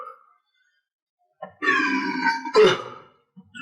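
A loud, drawn-out burp of about a second follows eating and drinking, with a short throaty grunt right after it and a brief quiet break before it.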